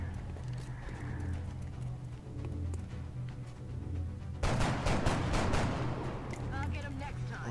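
Gunfire in the XCOM video game: a burst of several sharp shots in the second half, layered over steady game background sound and ambience.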